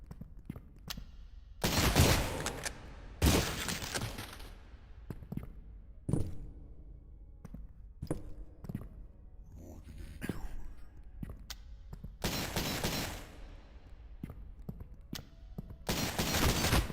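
Gunfire in the boomer-shooter video game Cultic, with repeated bursts of shots in quick clusters, loud and close, separated by quieter gaps of low ambience.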